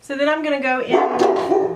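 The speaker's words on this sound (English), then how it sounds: "excuse my dog. She's going to bark in these videos" A dog's high, tonal yelp rings out at the start, then someone speaks over it.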